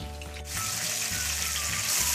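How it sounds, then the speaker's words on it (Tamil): Fish frying in hot oil in a home kitchen pan, a steady close sizzle that swells louder after a brief quieter start, with a low hum running underneath. "மீன் எண்ணெயில் போட்டாச்சு, கொஞ்சம் ஃப்ரை ஆகட்டும்."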